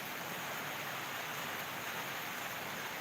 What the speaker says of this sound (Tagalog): Maulan eh, maulan.